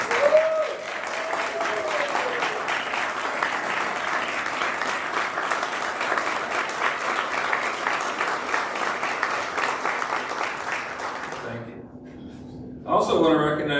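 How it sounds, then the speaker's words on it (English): Sustained applause from an assembled crowd honoring retirees standing at a ceremony, steady dense clapping for about eleven seconds before fading, followed by a brief burst of sound at the end. "will all our retirees just stand up real quick so we can give you a round of applause"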